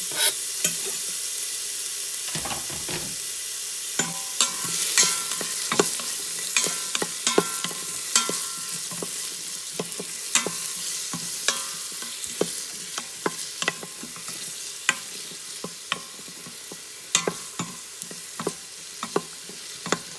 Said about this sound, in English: Then I'm gonna put a whole Vidalia onion in there. I'm gonna saute it.